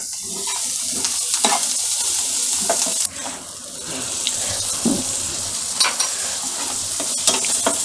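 Chopped onion with salt frying in a pan, a continuous loud sizzle broken by scraping stirs and clinks of a spoon, with a brief splash of running water partway through.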